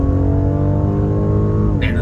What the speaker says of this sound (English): the throttle response is very, very good for a big car